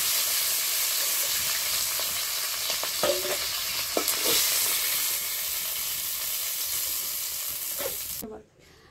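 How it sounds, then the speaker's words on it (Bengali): Moong dal frying and being stirred in a pan, a steady close sizzle with scraping spatula strokes scattered throughout, cutting off abruptly near the end. "মুগ ডালটা প্রথমে একটু ভেজে নেব"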